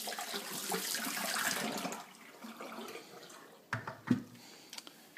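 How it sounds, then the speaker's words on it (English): Hot water is poured out of a coffee press into a sink in a steady gush for about two seconds. The flow then fades, followed by a few sharp knocks and clinks of the press being handled. "The first thing I'm going to do is dump out the hot water."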